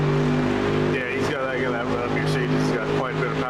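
Mercedes race car in iRacing at Spa running in a slipstream, its engine a steady sustained drone under continuous commentary voices.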